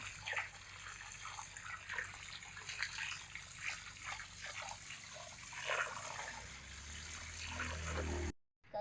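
Water is poured and trickles quietly over boiled clams as they are rinsed clean, a soft continuous splashing that cuts off abruptly at the end.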